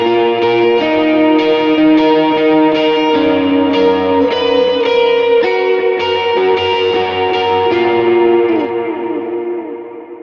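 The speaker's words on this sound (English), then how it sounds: "so you got that chorus pedal on" Electric guitar lead, played with a chorus pedal on, rings out in sustained, shimmering notes with a lush, slightly distorted, echoing tone, loud and steady with no talking.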